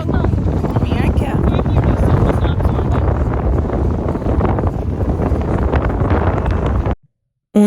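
Strong wind buffets the microphone in a loud, continuous roar outdoors in Porto, then cuts off abruptly near the end.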